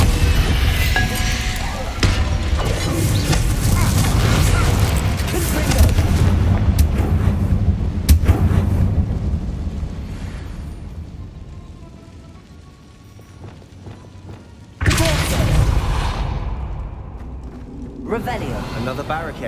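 Bombarda spell blasts in Hogwarts Legacy: loud, rumbling explosive booms roll through continuous battle noise, with a sharp fresh blast near the end, while in-game voices speak.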